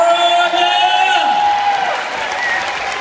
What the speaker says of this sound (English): one more round of applause for the YouKenDancers